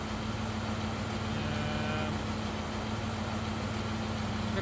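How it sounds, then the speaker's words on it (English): A bus engine idles in the visual novel game Everlasting Summer, a steady low rumbling hum with a constant drone that holds evenly throughout and has no talk over it. "The sound of an engine working brought me back to reality. A bus pulled over."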